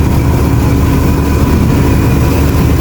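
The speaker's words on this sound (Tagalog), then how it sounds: "Ayan, finisher, tatakbo na." An asphalt finisher paving machine on a highway at night runs with a steady, loud low engine drone and mechanical rumble, continuous throughout with no voices.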